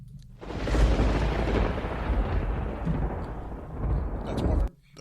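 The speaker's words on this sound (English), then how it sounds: "That's more of a gunshot." A gunshot sound effect plays as a loud, heavy blast that keeps rumbling for about four seconds before cutting off abruptly, sounding more like a big explosion than a sharp crack.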